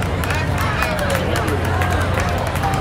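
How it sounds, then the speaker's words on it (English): Steady clapping from an outdoor crowd at a BBQ and carnival event, following a men's barbershop harmony chorus, with busy crowd babble mixed through the rhythmic claps. "Thank you very much for clapping along."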